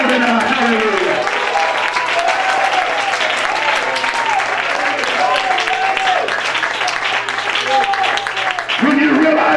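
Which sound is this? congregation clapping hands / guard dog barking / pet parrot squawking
congregation clapping hands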